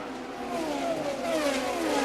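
IndyCar race cars at Richmond in 2003 scream past, a rising then falling engine whine from several cars overlapping as they sweep by, loud and continuous.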